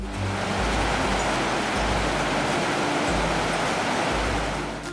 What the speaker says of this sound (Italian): giungiamo finalmente all'estremità opposta del canale centrale, dove si trova la cascata di marmo